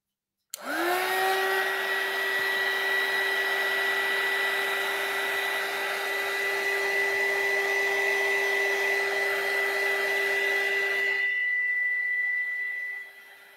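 Heat gun or hot-air tool warming leather during a cleaning job, a loud steady whine with a rising start that runs unbroken for about ten seconds before cutting off, with no voices.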